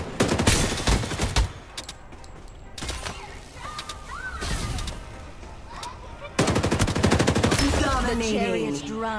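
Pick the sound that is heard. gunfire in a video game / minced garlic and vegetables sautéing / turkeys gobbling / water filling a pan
gunfire in a video game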